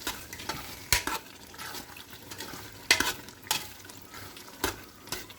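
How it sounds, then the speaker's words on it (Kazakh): A spoon stirs eggplant salad with sugar in a cooking pot, giving a low simmering hiss broken by several sharp scrapes and clinks against the pot at irregular intervals, with no talking. "Енді осыны араластырып жібереміз да."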